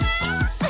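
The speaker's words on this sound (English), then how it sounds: "A kitty." Kitten meowing three times in quick succession, high and insistent, close and clear, with no voices over it.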